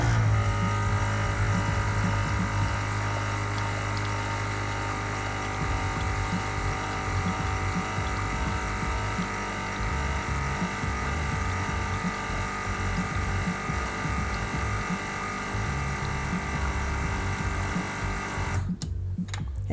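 ABS pump on a Ford running during a brake bleed with FORScan, a continuous loud electric buzzing hum that holds steady for nearly twenty seconds before cutting off abruptly near the end.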